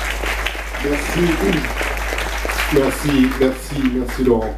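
Applause from an audience fills the background while someone speaks briefly over it.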